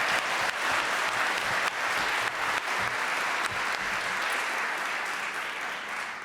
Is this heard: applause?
yes